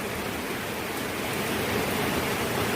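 Heavy rain pours down steadily, a dense, loud, even hiss that fills the whole stretch without a break and with no voices.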